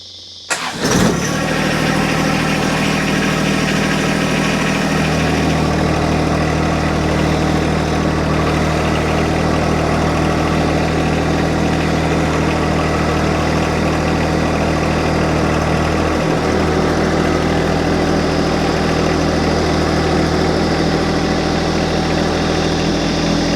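A John Deere 2025R compact tractor starts after a new ignition switch is fitted, then settles into a steady, loud, close idle that runs alone without a break.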